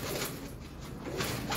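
A pet pigeon held in someone's hand coos softly and steadily, close by, over a constant hiss of background noise with no talking.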